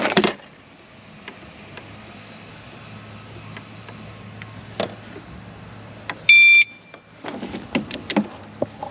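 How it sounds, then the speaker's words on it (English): Steady repeating beeps from the turn signals on a piece of heavy equipment, with a brief burst of louder electronic tones near the end. Clicks and knocks from the cab run alongside, and nobody talks. "The turn signals beep."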